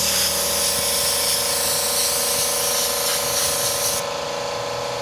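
A spray paint can hisses continuously and close up while spraying graffiti onto a black t-shirt, a steady, bright aerosol rush that drops off slightly near the end.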